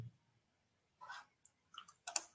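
Several quiet, crisp computer mouse clicks in short clusters, close and isolated against near silence, as a file is chosen on a desktop screen.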